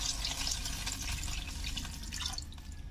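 Water splashes steadily into a cooking pot of chicken adobo with soy sauce, a continuous trickling pour at close range with no talking.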